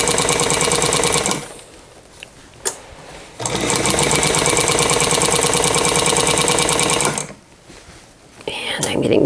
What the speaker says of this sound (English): let the needle go down in the exact same row that I stitched before, and then just follow my line.